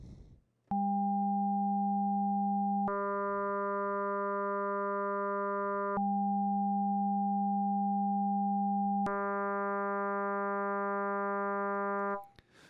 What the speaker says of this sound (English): Let's listen now to the same patch, the same sound, and we're going to switch it to FM synthesis